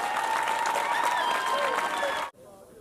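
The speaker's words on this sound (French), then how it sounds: "On applaudit pour les femmes." Dense crowd applause at an outdoor political rally in Ogooué-Maritime, Gabon, loud and steady with some voices mixed in, cutting off abruptly near the end.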